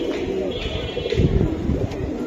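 Pigeons, a silver Giribaj pair, coo in soft repeated pulses close by amid a busy, noisy background.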